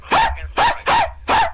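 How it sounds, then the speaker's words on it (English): A pet dog barks four times in quick succession, loud and close, each sharp yelp evenly spaced with short gaps between, heard alone without speech. "My dumbass dog."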